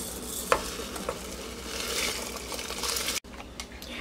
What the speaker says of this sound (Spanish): Ahora vamos a soltar el arroz que recién lavamos